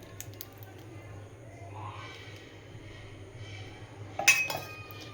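Oil and yogurt are stirred in a bowl for restaurant-style paneer biryani, giving soft squishy mixing and faint utensil scrapes, then a sharp clink of metal against the dish near the end.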